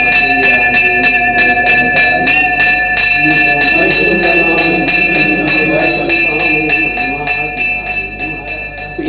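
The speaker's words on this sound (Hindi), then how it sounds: "ये घंटा आप देख रहे हैं, पुराना घंटा है।" A large, roughly 200-year-old bell at the Shree Ghanteshwar Mahadev temple in Delhi rings with rapid repeated strikes, bright sustained metallic overtones ringing loud and continuous throughout, with a faint murmur beneath.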